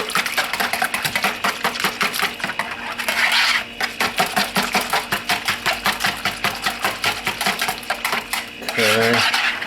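A spoon stirs bread pudding mixture in a bowl close up, making a steady rhythmic run of scraping clinks against the bowl for nearly ten seconds, with no talking.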